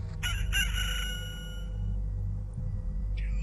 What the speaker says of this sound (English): It's just a single rooster in the darkness, probably floating off.